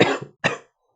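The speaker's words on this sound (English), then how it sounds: "Sorry, I have a little cough" Two sharp, close coughs from a man teaching a probability lesson, the first longer and the second following after a short gap, then silence.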